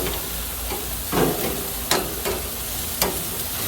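Peppers and sausage frying on a BBQ grill give a steady close sizzle, with a few brief louder crackles and scrapes as the food is stirred and flipped.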